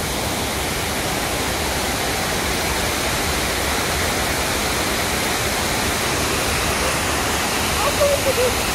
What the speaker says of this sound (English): this is the M0 waterfall